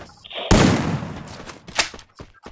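Gunfire rings out in a shooting video game: a loud sharp shot followed by a burst of reverberant blasts and a few quicker cracks, close and punchy.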